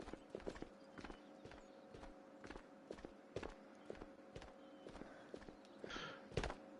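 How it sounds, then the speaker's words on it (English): Footsteps in the video game Ghosts of Tabor fall in a steady walking rhythm of sharp, evenly spaced thuds, faint and somewhat distant against a low steady hum. "I can hear footsteps on my right."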